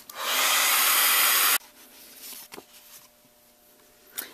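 A heat tool blows hard, steady and loud for about a second and a half, drying wet medium on a mixed media card, then cuts off, leaving faint handling clicks and rustles.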